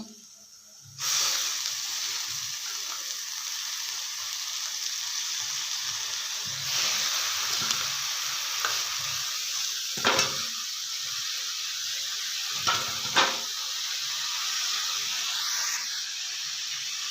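Spinach going into a hot pan for a home-style palak palya with peanut powder, a sudden hiss that settles into a steady soft sizzle with a few brief clatters of stirring.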